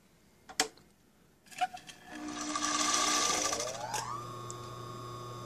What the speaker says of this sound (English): I'm going to use the Variac to kind of show you about the Repulsion-Start. You can hear it kick out.